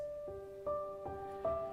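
A soft Heavyocity Ascent pianissimo piano blended with chained and twine texture layers, playing four gentle sustained notes at a slow, even pace, quiet and alone.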